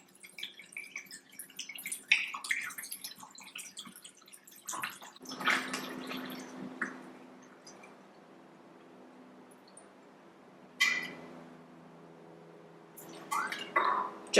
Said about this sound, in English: And now I'm going to pour in my vodka.